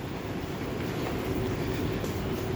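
An R62 New York City subway car on the 2 line at Flatbush Avenue gives a steady, loud rumble and hum as it stands at or moves through the station.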